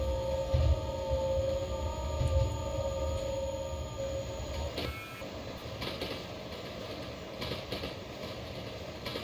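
Cargo train in a train simulator video game, a steady rumbling run with tonal engine hum and rhythmic low thumps throughout, moderately loud with no voices.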